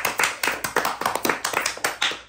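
A small group claps in celebration at a home birthday, with distinct, slightly uneven claps in a quick rhythm, loud and close, with no talking.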